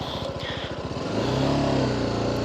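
Close motorcycle engine during parking-lot rider training: a pulsing idle that quickly rises into a steady, louder rev as the bike pulls away.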